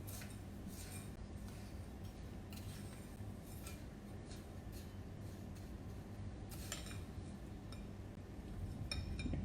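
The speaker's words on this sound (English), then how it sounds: "So then we just mix it up." A spoon scrapes and clinks against a bowl while stirring a dry foot soak mixture with a pinch of loose tea leaves, a steady run of light metallic taps with no talking.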